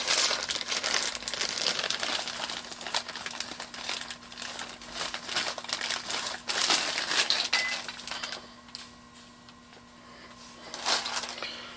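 A small plastic bag holding lubricant, part of a backflow preventer repair kit, crinkles and crumples in repeated bursts of handling up close, louder early and quieter toward the end, with no talking.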